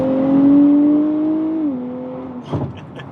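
A 2023 Nissan Z accelerating in sport mode with an automatic transmission, its engine note rising steadily and then dropping sharply at a gearshift, followed by a few brief clunks.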